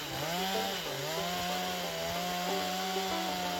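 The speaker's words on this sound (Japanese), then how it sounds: "チェーンソーが挟まらないように少しずつ外していきます。" A chainsaw cuts into a large fallen chestnut tree, its engine holding a loud, steady whine with slight pitch dips as the bar bites, close and alone without talk.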